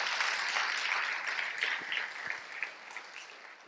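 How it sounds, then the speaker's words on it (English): A small audience at a student design review claps, a soft, fairly distant spatter of applause that fades gradually over a few seconds. "I was expecting some applause."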